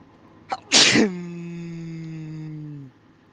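A single loud, close sneeze bursts out after a short inhale, followed by a sustained low tonal hum that fades out near the end.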